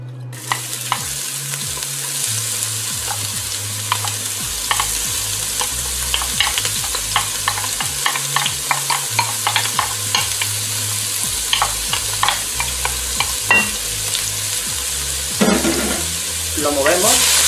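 Chopped onion hits hot oil for cau cau de mondongo, bursting into a loud, dense crackling sizzle that keeps going, marked by sharp pops and utensil clatter near the end.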